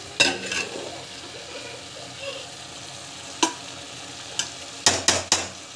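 Rice stirred into a biryani pot over masala, a low steady sizzle punctuated by several sharp metal spoon knocks against the pot, clustered near the end.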